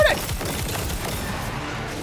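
Rapid gunfire in the video game Marvel's Spider-Man 2, a dense burst of shots opening loud and then holding as a continuous rattling barrage.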